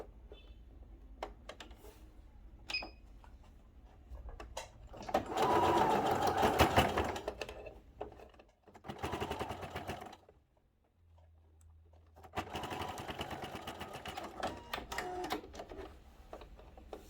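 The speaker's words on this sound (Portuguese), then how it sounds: "Vim aqui pra máquina. E vou costurar aqui o meu viés." A sewing machine stitches bias binding onto a small zippered waist pouch, running in three separate bursts of rapid steady whirring with pauses and small handling clicks between.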